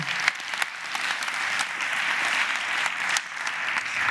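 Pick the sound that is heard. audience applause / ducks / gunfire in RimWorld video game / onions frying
audience applause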